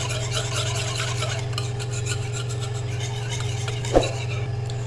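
Chaat masala and salt mixed into dahi bhalla, a steady close rubbing and scraping of a spoon through a bowl, with one sharp knock near the end.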